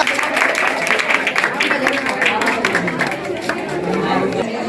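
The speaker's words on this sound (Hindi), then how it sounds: "चलिए इनके लिए आप लोग जोरदार तालियां बजा दीजिए।" Audience at a GK competition prize ceremony applauding the winners, a dense steady wash of clapping mixed with murmured chatter from the crowd throughout.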